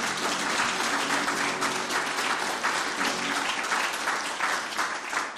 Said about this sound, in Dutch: mag ik daar dan een daverend applaus voor?